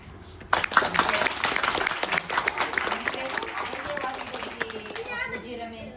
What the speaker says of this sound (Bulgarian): Сега очаквам аплодисментите за нашите прекрасни танцори.